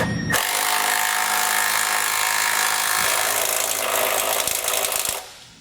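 A 19mm socket tightens trailer hitch hardware on a 2011 Honda Odyssey with a loud, continuous, close whirring rattle lasting about five seconds before it cuts off.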